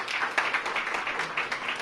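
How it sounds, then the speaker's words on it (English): A crowd at a ribbon-cutting for a short-term family housing program in Washington, D.C.'s Ward 6 claps for the advisory team, a steady patter of many hands at moderate distance, continuous and fairly lively throughout. "I just want to give the advisory team a round of applause"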